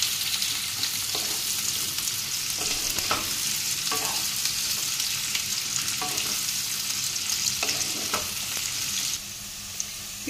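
Onions frying in oil in a pan until browned, a steady close sizzle broken by periodic scraping stirs, running continuously and easing slightly at the end.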